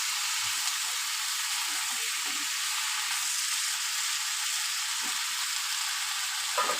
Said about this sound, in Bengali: পুঁই শাক আর আলুটা দিয়ে দেবো, দিয়ে একটু নাড়াচাড়া করে অল্প জল দিয়ে দেবো।